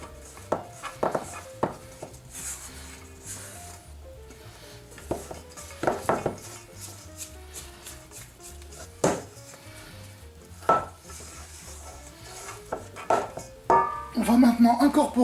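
Flour being mixed into chocolate chip cookie dough in a bowl, with irregular clinks and scrapes of a utensil against the bowl, close and fairly quiet, with talking in between.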